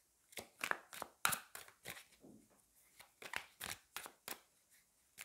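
Tarot cards are handled up close and quietly, giving a series of soft irregular flicks, slides and snaps with short pauses between them.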